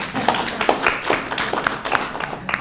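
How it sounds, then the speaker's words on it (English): A church congregation claps after a talk at a spiritual center in Carlsbad, scattered uneven hand claps with distinct sharp spikes, fairly close, fading somewhat toward the end. "give me a round of applause."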